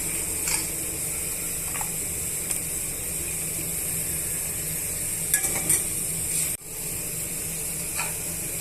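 A spoon scrapes and clinks against a pot of Nellore-style fish curry a few times over a steady background hiss, with quiet gaps between strokes.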